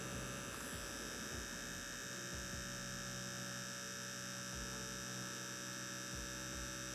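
A tattoo machine buzzes steadily and close up while lining over a stencil using only the very tip of the needle, a constant electric hum with no speech.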